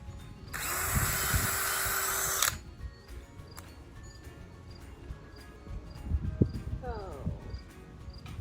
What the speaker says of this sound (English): drilling 2 pilot holes and inserting 2 of the 4-inch screws into this piece